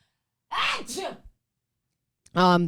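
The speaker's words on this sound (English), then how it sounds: "gonna sneeze" A single sharp sneeze bursts out, followed by a pause and then a short voiced exclamation.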